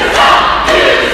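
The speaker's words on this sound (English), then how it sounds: "The crowd, though, starting to get into the head of Victor Benjamin" A wrestling crowd shouts and roars steadily throughout, a dense wall of voices at a live match with no clear break.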